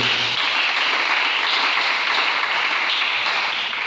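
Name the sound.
audience applauding and acclaiming the Lord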